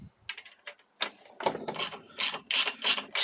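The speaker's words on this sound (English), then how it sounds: "So I'm just going to get me a ratchet now to take this cover off" A hand ratchet works the cover bolts loose on a lawnmower, with bursts of quick metallic clicking that speed up toward the end, close and fairly loud.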